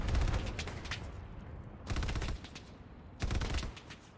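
Loud machine gun fire in the World War II shooter Hell Let Loose on Hill 400, coming in three rapid bursts separated by short pauses.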